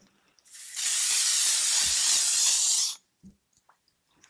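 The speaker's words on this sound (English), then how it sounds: "At this point, I used to add the setting spray." A single fine mist of L'Oreal makeup setting spray hisses out close by for about two and a half seconds, then stops, followed by faint small clicks.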